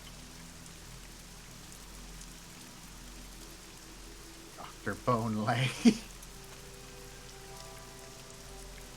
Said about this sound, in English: Well, time to walk into the rain.